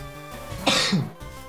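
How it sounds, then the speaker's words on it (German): A single close cough with a throat-clearing edge from a gamer, sharp and brief, alone over faint quiet background. "Sorry fürs Husten"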